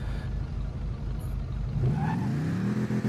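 Albany Buccaneer muscle car engine in GTA V idling with a steady low rumble close up, then revving upward in a rising surge near the end.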